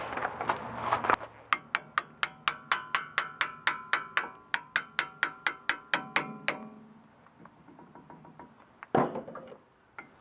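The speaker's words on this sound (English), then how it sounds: "Probably shouldn't have to hammer them in," Brake pads hammered into the caliper on a Porsche 944: about twenty sharp metallic strikes in a steady, even rhythm, ringing and close, followed by a pause and a few softer clanks.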